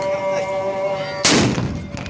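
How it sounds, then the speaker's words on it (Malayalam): A Ramadan iftar cannon is fired by officials near the Grand Mosque. One sharp, loud boom lands partway through and fades into a rumbling echo after a quieter stretch of steady background tone. "ബാങ്ക് വിളിക്കുന്നതോടെ ആഭ്യന്തര മന്ത്രാലയ ഉദ്യോഗസ്ഥർ വെടിമുഴക്കും."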